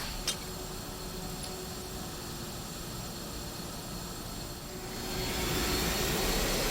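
The Batwing jet in Batman: Arkham Asylum roars with a steady, dense engine rush. The noise swells louder near the end, after a brief tick at the start.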